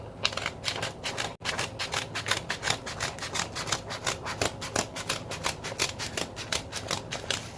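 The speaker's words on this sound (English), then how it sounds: "Now, if you're using a blunt scissor like I am, it'll actually give a nice effect." Blunt scissors cutting paper or faux leather for a circular bookbinding journal, a steady run of crisp, close snips and rasping strokes repeating quickly for several seconds with one brief pause, no talking.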